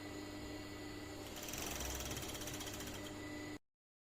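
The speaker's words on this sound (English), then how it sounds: "you can use the serger to attach the elastic" An overlocker serger runs continuously, stitching elastic onto swimwear straps; a steady, close, fast mechanical whir with rhythmic needle chatter that stops abruptly near the end.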